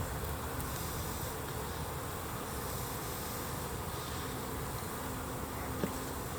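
Honeybees buzzing loudly and continuously as a frame is pulled straight out of a hive with a hive tool, a dense close drone throughout with a faint click near the end, no talking.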